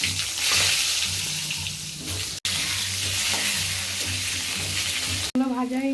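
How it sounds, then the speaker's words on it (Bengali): Food fries loudly in a pan, a dense steady sizzle close by that cuts out twice, the second time giving way to a brief tonal sound. "ওটা ভেজে নেব।"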